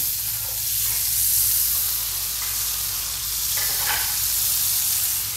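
Butter sizzles in a frying pan with a continuous close crackle and hiss, rising and easing slightly as the pan is moved, with no talk.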